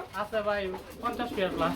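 Pigeons at a farm's pigeon sale coo in soft, rolling, throaty calls that come in short overlapping bursts, close by and fairly loud.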